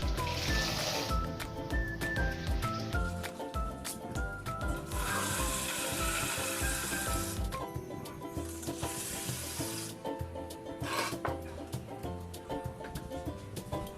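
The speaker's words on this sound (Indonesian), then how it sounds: "Lalu kita buang airnya dan kita bilas" Dirty, sandy soaking water being poured off betel leaves and the leaves rinsed, giving a busy wet splashing and rustling with bursts of pouring water in between.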